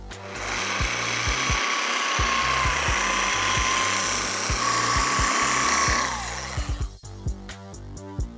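A polisher with a hybrid wool pad and Ultimate Cut compound buffs scratches out of the paint on a 1995 Chevy S-10. It gives a loud, sustained high whine over a rhythmic music beat, then cuts off near the end.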